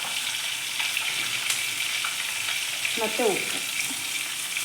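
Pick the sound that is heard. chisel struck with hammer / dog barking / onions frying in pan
onions frying in pan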